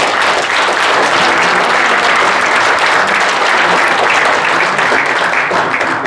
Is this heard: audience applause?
yes